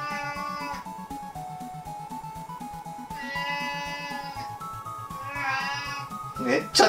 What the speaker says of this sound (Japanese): めっちゃ泣いてるな猫